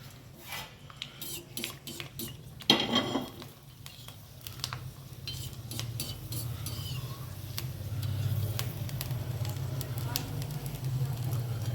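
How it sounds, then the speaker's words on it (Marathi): A single crisp sago (sabudana) chakli dropped into hot oil: a burst of bubbling on entry, then a steady frying crackle that swells louder toward the end, with light clinks of a utensil. "आता मी तळून एक चकली घेतली आहे तेलात सोडली"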